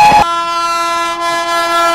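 A Bhubaneswar Tejas Rajdhani Express train sounding a loud, steady, sustained horn tone close by after a brief rumbling onset.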